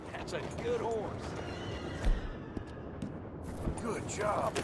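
A horse in the western game Red Dead Redemption 2 whinnies a couple of times amid hoof clops and shuffling, with a person talking over it throughout at moderate volume.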